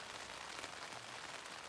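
Steady rain falls while camping at Black Balsam Knob, a dense, even hiss of drops hitting surfaces close by, continuous and unbroken with no voices.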